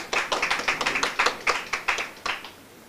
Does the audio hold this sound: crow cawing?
no